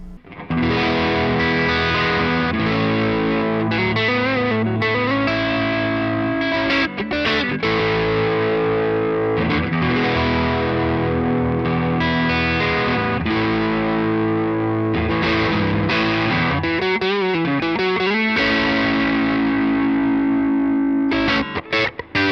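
Overdriven electric guitar, a Fender American Ultra II Stratocaster, plays sustained chords and melodic bends, thick and saturated, loud and continuous with no voices.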